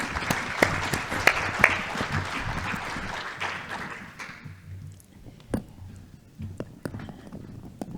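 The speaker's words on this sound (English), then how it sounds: "let's give them a round of applause." An indoor audience applauds volunteers coming up on stage, a dense burst of clapping for several seconds that fades out, followed by sparse footsteps and room noise.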